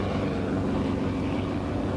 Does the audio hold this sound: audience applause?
no